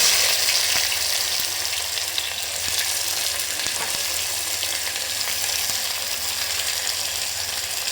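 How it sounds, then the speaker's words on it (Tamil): Onions and mustard seeds fry in a little oil in a pressure cooker on the stove, making a strong, steady sizzle with scattered pops and crackles throughout. "அடுப்பில் இந்த குக்கரை வச்சுக்கிட்டு கொஞ்சமாக ஆயில் ஊற்றிக்கலாம். கடுகு போட்டுக்கலாம். பெரிய வெங்காயம் போட்டுக்கலாம்"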